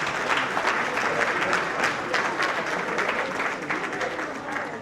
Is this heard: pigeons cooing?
no